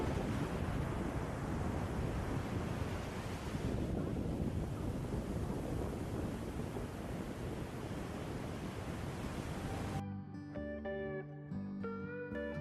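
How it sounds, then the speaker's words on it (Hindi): Surf rolls in steadily at Bondi Beach, a broad roar of waves mixed with wind buffeting the microphone. Near the end it cuts to quieter music. "उछलती कूदती लहरें, अथाह समुद्र, नीले नीले आसमान के नीचे नीला नीला पानी, और यहाँ शोर भी है और एक शांति भी"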